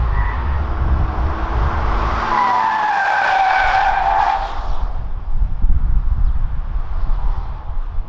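Kia Sorento SUV with all-wheel drive climbing uphill, tires skidding and squealing in a rising and falling whine over a rough engine and road rumble, close and loud.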